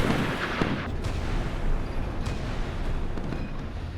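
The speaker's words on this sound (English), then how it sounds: "There goes some more missiles." Missiles launching and striking ships in the Sea Power naval combat game: a continuous, dense roar of rocket fire and explosions with a steady heavy rumble and a few sharper bursts, loud throughout and with no voices.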